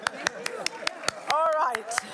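Hands clapping at a wedding-style award ceremony gathering, a run of sharp, evenly spaced claps close by, with brief voices and a whistle-like tone in the middle.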